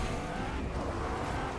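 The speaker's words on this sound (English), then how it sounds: "There's a car right here to your left." A car in a video game rumbles past close by, a continuous, fairly loud engine and road roar lasting a short moment with no voices over it.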